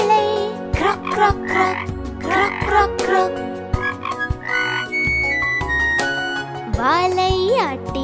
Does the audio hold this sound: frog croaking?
yes